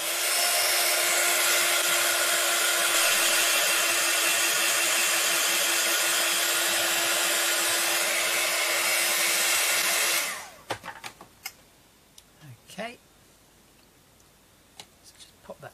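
A hair dryer blows steadily and loudly for about ten seconds to dry paint on an angel and moon canvas, then cuts off abruptly, leaving faint handling noises.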